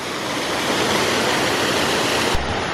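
A moss-covered waterfall roars with a dense, continuous broadband rush, loud and close, steady throughout with no talk.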